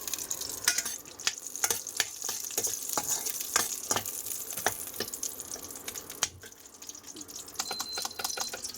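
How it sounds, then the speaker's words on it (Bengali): Chillies frying in oil in a home kitchen, a steady bright sizzle broken by sharp stirring clatters and scrapes, close and alone without talk. "দেখো এদিকে লঙ্কা ভাজছি"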